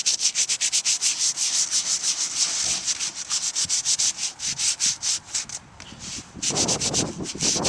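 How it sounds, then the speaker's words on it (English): Sandpaper rubbed rapidly back and forth over exterior house wood during painting prep, a loud rhythmic scratchy rasp of close strokes that pauses briefly and resumes. "So, in order to sand that down,"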